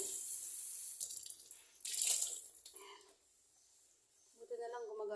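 Tap water runs into a kitchen sink while dishes are rinsed, a steady broadband rush with louder bursts that drops away midway, then returns with clinking; a voice talks over it.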